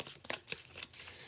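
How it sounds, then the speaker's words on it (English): A deck of reading cards being shuffled, a quick burst of soft riffling and flicking, faint and close, lasting just over a second. "I'm just going to shuffle ahead of time so that I'm not doing it in the middle of the reading."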